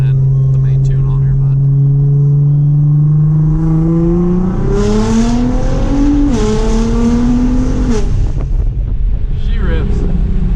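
A tuned Nissan GT-R with new injectors revs hard while driving, its engine note climbing steadily through the gears with roaring intake and wind noise. Loud and close throughout, with no talk over it.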